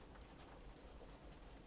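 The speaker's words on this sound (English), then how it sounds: "The rain sounds nice." Steady rain falls outside, a soft continuous patter that stays faint and even, with no voices.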